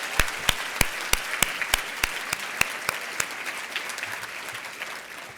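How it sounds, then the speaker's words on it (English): Guests at the WBDC 2024 annual gala applaud the sponsors: a crowd claps in a crisp, scattered patter of distinct hand claps that thins and softens toward the end. "Now we can give them a round of applause."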